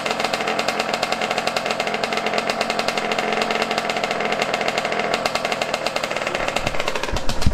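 Yamaha YZ125 two-stroke dirt bike engine running close by while still not warmed up, a loud, raspy, rapidly pulsing buzz held steady throughout with slight revving at the end.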